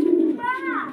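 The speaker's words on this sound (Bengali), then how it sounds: "শর্টফুটি কবুতর।" A short-footed pigeon at a farm coos once up close, a low rounded note sliding into a higher, wavering call lasting about a second, loud and clear.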